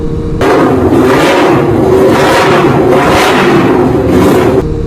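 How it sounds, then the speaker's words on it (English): A parallel twin motorcycle engine revs loudly and close by, surging up and down in repeated waves with a throaty, pulsing rumble. "With that parallel twin, which that sounds awesome to me, man. I dig that sound."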